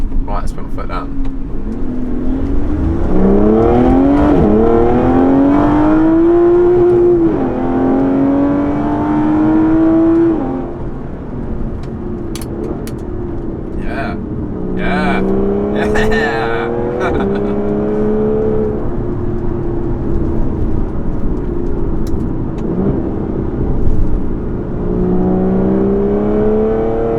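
An Aston Martin Vanquish S V12 revs at full throttle from inside the cabin, its engine note rising and then sweeping upward through several gear changes, loud and sustained, with someone talking over parts of it.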